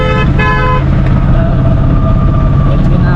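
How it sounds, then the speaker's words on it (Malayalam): Vehicle horns honk on a busy Tamil Nadu road during an auto rickshaw trip, a loud close toot with a couple of repeated blasts at the start over a constant, heavy engine and traffic roar. "സാറേ എങ്ങനെയൊക്കെ ഹോൺ അടിക്കുന്നത്"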